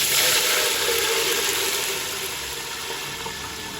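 Water rushes steadily into a pot of fried fennel seeds while making jaggery rice, a loud close hiss that softens slightly as the vessel fills; no one speaks.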